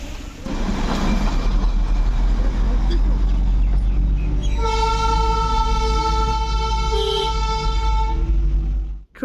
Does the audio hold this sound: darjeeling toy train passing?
yes